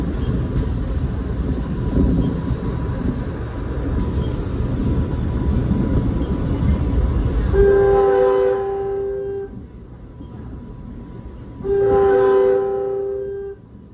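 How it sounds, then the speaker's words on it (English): A Utah Railway Route 515 freight train led by GP40 locomotive 3001 rumbles past, its steady rolling roar filling the first half before two loud, sustained multi-tone horn blasts sound, the second after a short gap. "Utah Railway Route 515 heading back to Ogden, with GP40 3001 leading"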